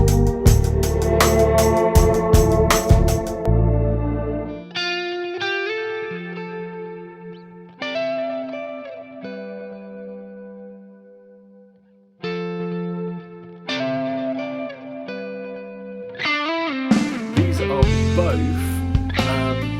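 Electric guitar played through ethereal reverb pedals, the Keeley Halo and Walrus Audio Law, heard as chords and single notes with lush, wide reverb washes and echo, dense and loud at first, then sparser phrases with a brief drop near the middle.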